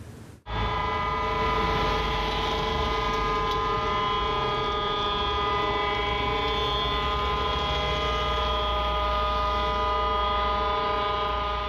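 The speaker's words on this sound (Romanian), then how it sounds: "Acolo unde au funcționat, alarmele au emis 5 sunete a câte 16 secunde fiecare, cu o pauză de 10 secunde între ele." Civil defense alarm sirens sounding across Romania during an emergency test give a loud, sustained wail that holds steady from the start, with no voices over it.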